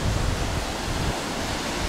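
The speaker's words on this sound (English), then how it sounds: "Just a few waves, nothing mega though." Small, gentle sea waves wash onto a beach in Chumphon, Thailand, heard as a steady close surf hiss with wind across the microphone.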